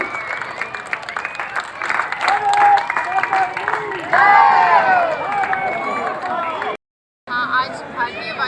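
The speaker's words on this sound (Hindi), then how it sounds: "सार्जेंट योगेंद्र के लिए जबरदस्त तालियों से उनका स्वागत कीजिए आप सभी दरभंगावासी।" A crowd at a public event in Darbhanga, India, claps and cheers in a dense, sustained wash while a loud voice talks over it through most of the stretch.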